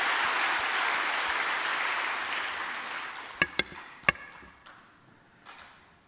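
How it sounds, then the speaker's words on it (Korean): A church congregation at an autumn revival meeting in Korea applauds together in a full, sustained round that gradually fades, followed by a few scattered, isolated claps near the end. "은혜 주실 하나님께 다시 한번 박수합시다."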